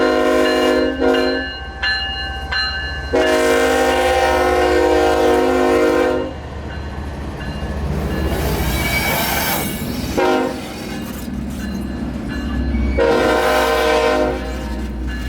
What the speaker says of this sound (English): there's two General Electric motors doing the work today